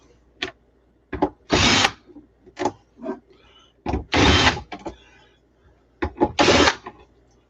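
A power drill whirs in several short bursts, each a few seconds long, separated by brief pauses and small clicks and clatters; close and fairly loud.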